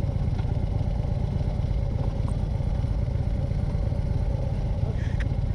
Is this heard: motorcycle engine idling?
yes